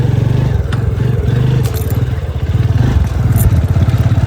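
A motorcycle being ridden, its engine a close, steady pulsing drone with light rattles and clatter over it.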